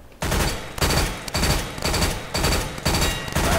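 Shots from a high-caliber firearm fired at a target through a piece of wood in a video game training range: about six loud, sharp reports spaced roughly half a second apart, each with a short ringing tail, close and alone.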